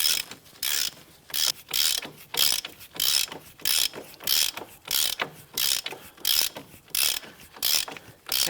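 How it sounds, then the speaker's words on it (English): A hand ratchet clicks in steady repeated strokes, each burst a quick run of sharp metallic ticks, as it tightens the steering knuckle bolts on a 2006-2011 Cadillac DTS during a CV axle replacement; close and clear. "As we tighten this up, we can see the bolt getting sucked into the knuckle."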